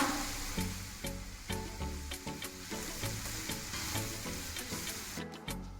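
Curry leaves, onion and green chilies frying in oil for a fenugreek kuzhambu, a steady close sizzle with rhythmic stirring scrapes roughly every second and a brief louder crackle near the end, with no voices.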